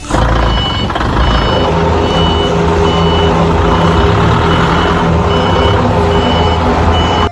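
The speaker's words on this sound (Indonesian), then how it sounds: "Wih, mobil forklift." A toy forklift truck sounds a loud, evenly repeating electronic reversing beep, close and continuous, with a steady hum underneath and no talking.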